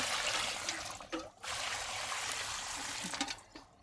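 Water splashing and trickling onto garden soil around flowering plants such as table roses and moss rose, a steady pour carried on with a few short breaks, close by and moderately loud, no one talking.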